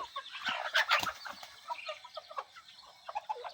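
Several chickens clucking and chattering close by, with irregular bursts of calls and some rustling in the background.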